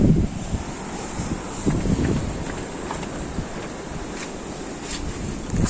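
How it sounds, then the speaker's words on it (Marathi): Strong wind buffets the microphone at a forest campsite in Mulshi, a loud continuous roar with rumbling gusts and no talk. "बघा वारं बघा किती आहे"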